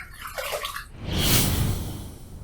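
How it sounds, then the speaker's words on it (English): Water runs to rinse a Parker 71R safety razor after a shave, a brief spatter and splash followed by a steadier pouring stream, fairly quiet and close. "Let's rinse."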